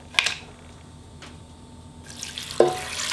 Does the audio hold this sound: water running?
yes